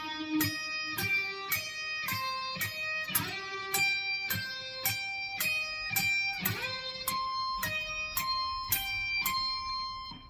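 Plucked guitar arpeggios move through three inversion shapes over a C root, played as a regular run of single notes in even rhythm, clear and unaccompanied.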